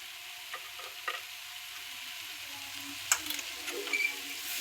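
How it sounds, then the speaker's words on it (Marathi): Cooking food is stirred in a pan, soft scraping and quiet sizzling close by, with a few sharper clicks of the spoon against the pan near the end. "सगळं असं हलवायचं"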